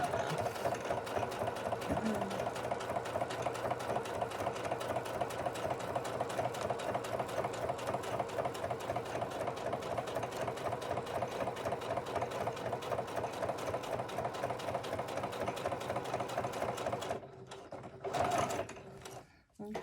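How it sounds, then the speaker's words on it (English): A sewing machine stitches a notepad in a steady, rapid run of mechanical pulses for most of the time, then stops near the end, followed by a brief clatter. "I'm going to turn it over and I'm just going to sew again across to keep everything in unison."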